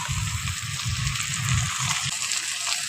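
Ginger garlic paste goes into tomatoes frying in oil for a banana flower and prawn kofta curry, giving a steady broad sizzle with a low bubbling, sputtering rumble throughout, close and fairly loud, with no talking.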